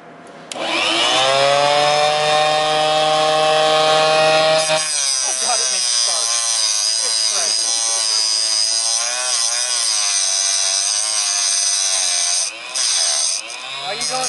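A cold saw cuts through a metal crank part, giving a loud, sustained, strongly tonal whine that shifts pitch after about five seconds and keeps grinding steadily, with a brief dip near the end.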